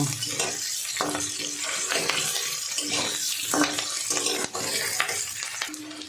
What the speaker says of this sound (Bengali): এভাবে আমি আলু আর পেঁয়াজটা ভেজে নেব